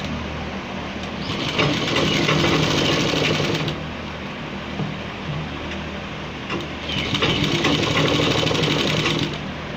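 A sewing machine runs in steady bursts while stitching a gents kurta, two loud rapid runs separated by a quieter pause, with no talking.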